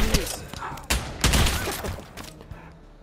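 Gunfire in the VR shooter game Pavlov VR on PSVR2 cracks out in several loud, close bursts with sharp impacts, then tapers off.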